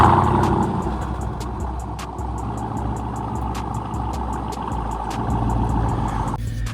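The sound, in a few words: Trackhawk car exhaust, stock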